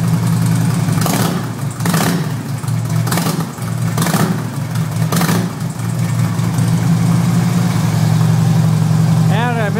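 A 2008 Harley-Davidson FLHT Electra Glide engine rumbles loud and close with a low steady idle, punctuated by four or five sharp throttle blips, then settles back to idle.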